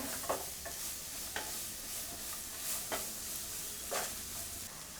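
Masala noodles made with millet frying in oil in a pan, a steady soft sizzle broken by faint scraping stirs about once a second, close and quiet with no talking.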